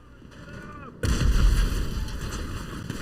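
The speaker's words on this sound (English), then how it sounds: "Shotgun." A shotgun fires in GTA 5 Online: one heavy, booming blast hits after a second of quieter game ambience and leaves a long rumbling tail.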